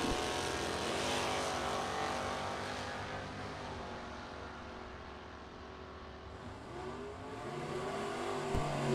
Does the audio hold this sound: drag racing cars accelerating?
yes